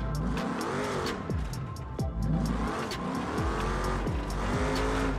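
Race car in a video game driven over a huge jump ramp with a steering wheel, its engine revving loud and continuous with rising and falling pitch sweeps and tire squeal, no talking.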